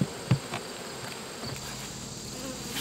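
Honeybees buzz faintly at a very small hive colony outdoors, a thin steady drone with a few brief louder passes near the start and no voices.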